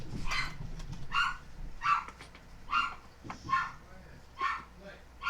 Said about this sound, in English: There must be a dog walking by.